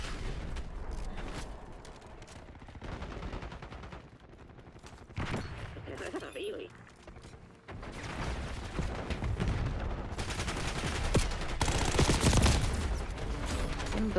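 Rapid bursts of automatic gunfire and explosions from Call of Duty Black Ops 6 multiplayer, continuous and dense over roughly fourteen seconds, with a player's voice coming through at times.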